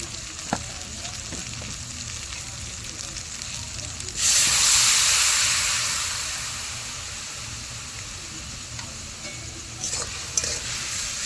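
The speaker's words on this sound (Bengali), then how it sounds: "ভালো করে কষিয়ে নেবো।" Snail curry with chilli powder frying in a pan gives a steady close sizzle, and a sudden loud hissing burst midway fades back into continuous crackle with occasional stirring scrapes.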